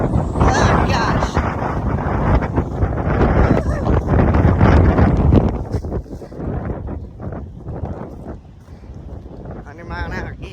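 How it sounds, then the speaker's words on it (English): Strong outdoor wind buffets the microphone during a fishing trip, roaring loud and gusty for most of the clip and easing near the end, with a person talking under it. "So I think it'll be a little hard to catch something with all this wind."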